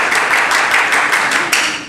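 An audience claps in a dense, bright patter with a few sharper accents, steady and fairly loud throughout, with no talk.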